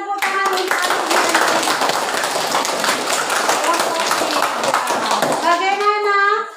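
A classroom of students claps for a classmate after a group presentation, a loud, brisk round of hands from nearby that stops abruptly, followed by a voice speaking.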